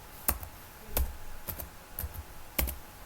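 Several separate keystrokes on a computer keyboard as a file name is typed, a handful of crisp clicks spaced across a few seconds, close and fairly quiet with no talking.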